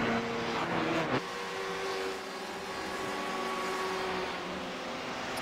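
Steady drone of a sportscar engine in a sim racing endurance event at Road Atlanta, with a sustained tone shifting slightly in pitch and a brief louder passage near the start.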